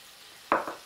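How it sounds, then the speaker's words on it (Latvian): Chicken and onions frying in a pan for fajitas, heard as a brief soft burst of sizzle and stirring over quiet background, starting about halfway through. "Kamēr cepās un sautējās un svistiņi ar sīpoliem"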